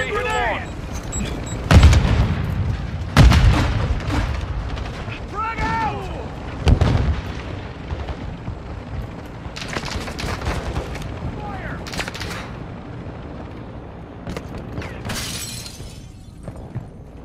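Gunfire in a squad shooter video game comes as scattered sharp cracks and bursts, some near and loud, others distant, under ongoing talk between players.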